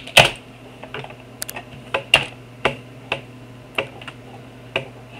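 A computer keyboard is typed on slowly, with about a dozen separate crisp key clicks spaced irregularly over a low steady background hum.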